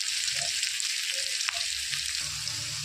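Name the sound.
snakehead fish frying in oil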